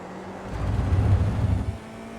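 A simulated FIA IR04 F4 race car engine in iRacing at Winton swells into a low, droning rev for about a second and a half, then fades.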